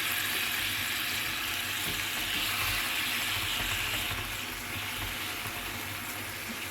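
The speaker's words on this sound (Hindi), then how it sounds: "चिकन को अदरक लहसुन और इस घी के साथ अच्छी तरह से मिक्स कर लेंगे" Chicken frying in ghee with ginger and garlic in a karahi: a steady, dense sizzle and crackle close by, with a faint stirring texture and no speech.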